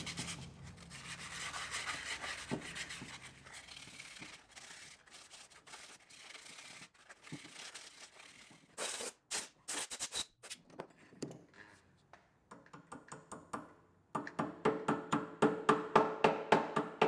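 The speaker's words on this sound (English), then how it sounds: "I'm just going to sand this" Sandpaper rubs back and forth on the pulley shaft of a gas-powered air compressor, first as a soft continuous scrape, then in quick rhythmic strokes that grow louder and more regular near the end.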